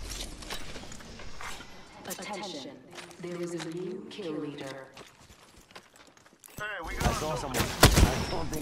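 Apex Legends gunfire: loud, rapid bursts of shots near the end, with character voices speaking over earlier stretches of quieter game sound.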